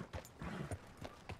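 Horse hooves clip-clopping in Red Dead Redemption, a handful of soft, close thuds in an uneven walking rhythm, fairly faint.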